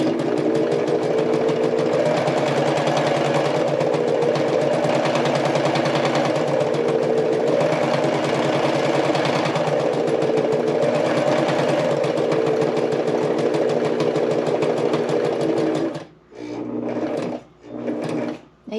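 A sewing machine runs steadily for a long stretch stitching a half-inch seam around a fabric placemat, its motor whirring with a wavering pitch, then stops and gives a few short bursts at the end.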